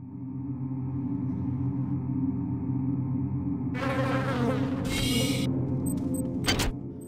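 Bees in the video game System Shock 2 give off a steady, droning insect buzz throughout, close and constant, joined midway by bright synthetic chiming game effects that cut in and out.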